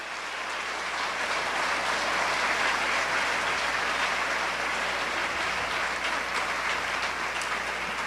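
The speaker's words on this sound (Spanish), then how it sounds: "Denle un aplauso más fuerte al Rey." A church congregation applauding during a sermon, a broad, sustained wash of clapping from a large crowd, fairly distant and even throughout, with no one speaking over it.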